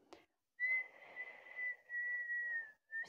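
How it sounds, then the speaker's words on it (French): A person whistles a single sustained, slightly wavering tone by blowing out through narrowed lips during a yoga breathing exercise, close and alone, broken by short gaps. "C'était pas prévu, mais c'est possible de siffler."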